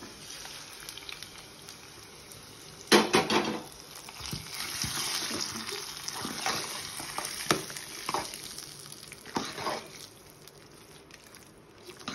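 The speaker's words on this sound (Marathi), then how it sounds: "आता आपण हे मिश्रण हा तडका यामध्ये मिक्स करून घेऊ।" Rice being stirred with a tadka tempering in a pan for daddojanam, a sharp clatter of a spoon followed by repeated scraping and stirring over a soft frying sizzle, close and moderately loud, with no talking.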